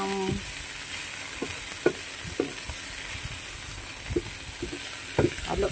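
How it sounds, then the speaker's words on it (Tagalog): Bean sprouts (tawgue) being stir-fried with salt fish in a pan, a steady frying sizzle under intermittent scrapes and clacks of a utensil, close and moderately loud, with no talking. "Halo-haluin natin para masarap,"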